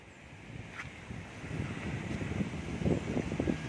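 Strong wind gusting over a small homemade wind turbine generator built from a starter dynamo, a steady rushing roar that swells louder toward the end with buffeting at the microphone.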